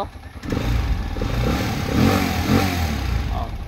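A Rusi Chariot 175 motorcycle engine runs close by with a steady, clattering mid-pitched idle that rises slightly as if blipped, without speech over it.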